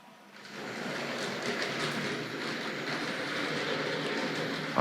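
Continuous rumbling and clattering of a Hornby Dublo model tank locomotive running along its track, steady and close, with a faint rhythmic clicking throughout.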